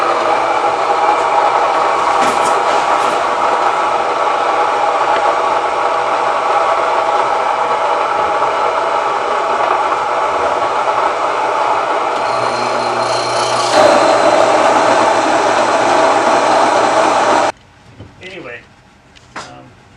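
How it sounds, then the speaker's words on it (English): Whole-grain mills grinding wheat berries into flour make a loud, steady mechanical roar that runs continuously, shifts in tone partway through, then cuts off near the end, leaving faint clatter. "These mills are pretty loud."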